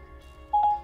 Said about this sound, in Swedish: Ringer Ola Sundén. Mobilnummer.